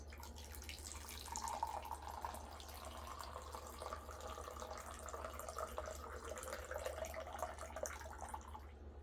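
Apple juice poured from a tall cup into a hat, a steady trickling liquid stream running continuously at moderate level, close by and alone.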